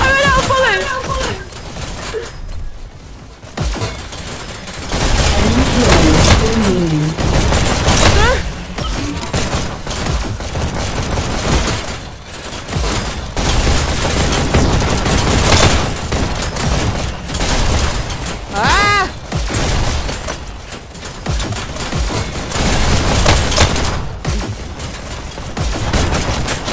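Rapid, continuous gunfire fills a Hyper Dash deathmatch in the video game, with bursts and booms running almost throughout, while a voice talks over the shooting.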